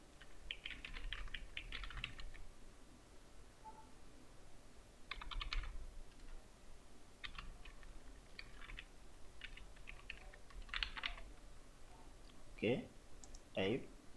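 Keystrokes on a computer keyboard while filling in an online form, arriving in short irregular bursts of clicks with pauses between them, moderately close, with a couple of sharper taps near the end and no talking.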